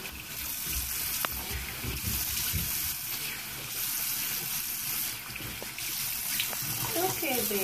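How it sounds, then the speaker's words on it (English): Water runs and splashes steadily while a baby's hair is rinsed during a bath to clear cradle cap, a close, continuous wash of pouring and trickling with brief fluctuations throughout. "About ready to be rinsed here."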